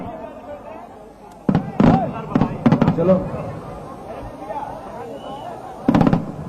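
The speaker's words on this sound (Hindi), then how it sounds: "अब आप लोग यहीं से बैठे बैठे अपने पीछे आतिशबाजी का आनंद लीजिए।" Fireworks burst over Ayodhya during the Deepotsav celebration, a series of sharp cracks and booms in irregular clusters, some near and loud, heard amid crowd noise and a brief spoken word.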